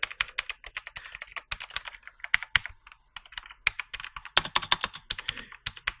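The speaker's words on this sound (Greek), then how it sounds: "ο ήχο του είναι ακριβώς πολύ κοντά στον ήχο που κάνουν οι μπλε switches" Rapid, crisp clicky keystrokes on a budget mechanical keyboard with blue switches, typed in quick bursts with brief pauses, close and clear.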